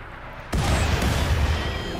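A mortar fires in RimWorld, a single sudden heavy boom that cuts in at once and leaves a loud, rumbling roar ringing on afterward.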